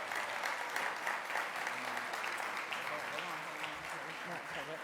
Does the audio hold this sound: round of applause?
yes